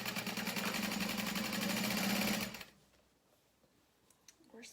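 A sewing machine stitches a tote bag at a 3.5 stitch length, a steady fast mechanical whir for over two seconds that stops abruptly, followed by faint handling sounds.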